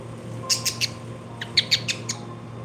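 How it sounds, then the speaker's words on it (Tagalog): Two short bursts of high, sharp bird chirps, three or four notes each, over a steady low background hum. "Ayan, guys, ang ibon."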